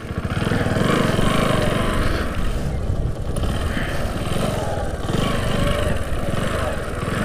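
A motorcycle engine runs loud and rough in first gear on a road, its steady throbbing exhaust note holding close and continuous with only slight swells in revs.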